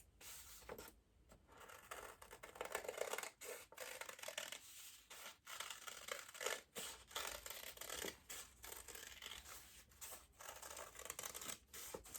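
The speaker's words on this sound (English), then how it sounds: "And then you're going to go ahead and cut that out." Scissors cut circle shapes out of folded sheets of paper for a craft project, a faint, steady rubbing and snipping texture with short pauses, quiet and close with no voice.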